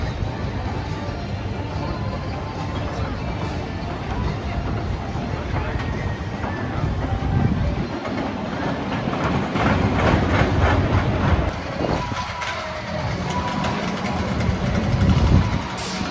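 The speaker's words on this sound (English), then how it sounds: "let's go and have a ride on Caterpillar Coaster" The Caterpillar Coaster, a small roller coaster at Brean theme park, rumbling and clattering steadily along its track from onboard, loud and continuous with wind noise and riders' voices mixed in.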